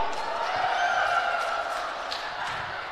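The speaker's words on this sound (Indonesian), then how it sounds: "Tepuk tangan." Crowd applause with some cheering during a candidates' debate for the Pamekasan regional election, a dense steady clatter of clapping that fills the hall, loud and close, then easing slightly toward the end.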